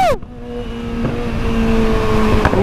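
Kawasaki Z1000 motorcycle engine rumbling close by on a rain-wet road, a steady roar with a slight rise in revs, no speech.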